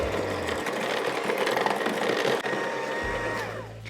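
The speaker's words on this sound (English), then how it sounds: "We're going to give this a quick mix together." Sugar, ground almonds, egg and almond extract for frangipane are mixed briefly in a kitchen, giving a steady, loud motorized whir that runs for about three seconds with a slight change in pitch, then stops.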